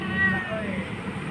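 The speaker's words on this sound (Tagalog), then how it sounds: "yan si Kobe, yung mga pusa ko guys" A pet cat named Kobe gives a single close meow, rising and falling over about a second, with faint room noise around it and no talk over it.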